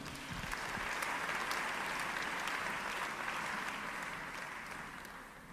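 Church congregation applauding steadily for several seconds, a dense wash of clapping that swells and then tapers slightly, with no voices over it.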